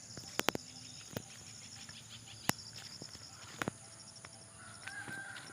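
A rooster crows in the yard, several sharp bursts over a steady outdoor background of distant birds and chickens, fairly faint and at some distance.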